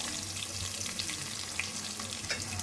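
Onions sizzling in hot oil with mustard seeds and curry leaves for a fish curry, a steady close frying hiss with faint crackles throughout, no voices.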